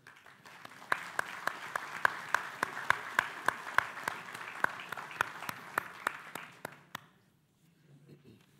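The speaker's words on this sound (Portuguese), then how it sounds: "Uma salva de palmas, por favor" An audience at a literary reading in Porto breaks into applause, sharp claps ringing out in a fairly even rhythm over a soft background wash before fading out abruptly near the end.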